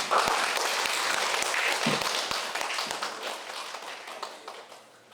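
An audience at a social work practicum presentation event claps to welcome a student presenter, with dense applause and a few sharper close claps, gradually thinning out over several seconds.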